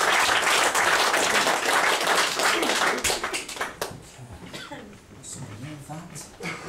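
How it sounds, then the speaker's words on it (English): Audience applause at a comedy mind-reading stage show as a volunteer is brought up, dense loud clapping for about three seconds that thins into scattered claps and murmuring crowd noise. "Give him a round of applause as he makes his way to the stage."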